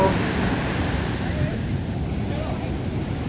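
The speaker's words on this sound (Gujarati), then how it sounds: "આવી રીતના તોફાની દરિયો છે, તમે જોઈ શકો." A stormy sea roars at Madhavpur beach. Surf rumbles in a steady low wash and wind buffets the microphone, with no clear breaks between the waves.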